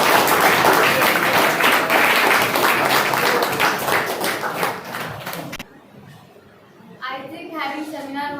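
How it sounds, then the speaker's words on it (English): A class of students applauding together after a seminar on economic planning in India: dense, loud clapping for several seconds that fades out, followed by a voice speaking. "All clap for all."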